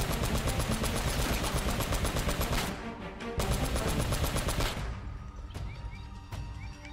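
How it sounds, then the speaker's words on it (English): Turret machine gun firing in the video game Uncharted, rapid loud continuous bursts in two long stretches, then fading into scattered shots. "I'm in a turret, you can't stop me."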